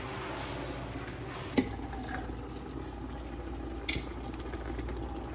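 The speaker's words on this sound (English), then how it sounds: "I'm going to add my crushed tomatoes. You can hear it deglaze off the bottom of the pot there" Crushed tomatoes poured into a hot pot while camp cooking, giving a faint, steady sizzling bubble with a couple of brief clinks.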